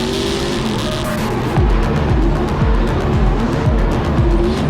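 Drift cars battle in a tandem run at a Bordeaux Mérignac drift round, engines revving hard with repeated bouncing limiter bursts and loud tire squeal, close and continuous with no talk.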